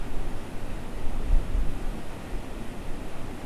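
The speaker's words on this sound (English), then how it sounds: "the noise of the water" Water rushes at Rodman Dam in a steady, broad, roaring wash, loud and continuous with gentle swells and a bit of wind buffeting, no voices.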